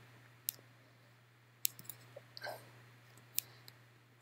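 Sharp, isolated mouse clicks on a Mac running OS X 10.9.3, three distinct taps spaced over a few seconds in a quiet room, with a faint soft rustle between them and no talking.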